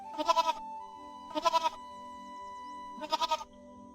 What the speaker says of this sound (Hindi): ये बकरी मेरे पौधे के पास कहाँ से आ गई?